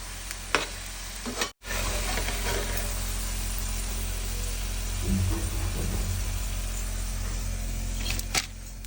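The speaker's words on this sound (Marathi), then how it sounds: "या इथं छान अशी कांदा भजी तयार होती आपली. चला मी पटापट फ्राय करून घेते" Onion bhaji fritters frying in hot oil give a steady, close sizzling hiss, broken by a brief silent gap and a few soft knocks of a utensil, with no speech.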